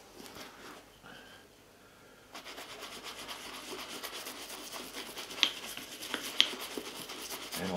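Steady soft rubbing strokes of a cloth buffing polish onto a Caterpillar safety boot, close up and quiet, growing busier after a brief lull, with a couple of sharp small ticks.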